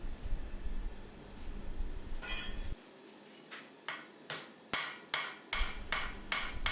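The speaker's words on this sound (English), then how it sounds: "Doing a little bit of wet forging here at a lower temperature, just dressing everything." A hammer strikes hot steel while a knife forged from round stock is dressed at a lower temperature with wet forging, giving a run of evenly spaced sharp ringing blows after a short stretch of rumbling background noise.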